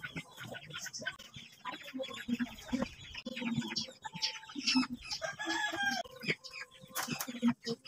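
Rhode Island Red chickens and a rooster cluck and call in a farmyard, with irregular bursts of clucking and brief crowing over a faint background of bird chirps.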